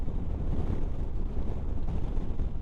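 Wind buffets a microphone during a motorcycle ride, a steady low roaring rumble that runs unbroken and loud for the whole stretch, with no voices.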